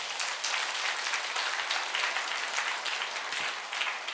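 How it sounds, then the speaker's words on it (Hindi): A church congregation claps together in a dense, even wash of many hands that holds steady throughout the short stretch, with no voices over it. "एक बार अच्छा से ताली बजाएंगे"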